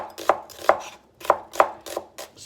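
A knife chops vegetables on a board, about seven crisp, separate thwacks in an uneven rhythm, close and clear with nothing else around them.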